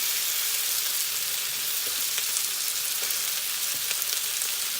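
Bok choy frying in a pan with ginger and garlic, a dense continuous sizzle with faint crackles, close and steady, no voices.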